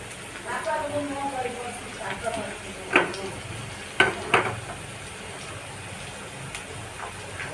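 Mustard seeds hit half a spoon of hot oil with a soft, crackling sizzle, a few sharp pops and spits standing out above a quiet hiss, with a voice speaking briefly.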